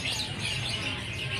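A black oriental magpie-robin (kacer wulung) chirps in short repeated tweets amid a busy bird market, other birds calling faintly around it under a steady background hiss.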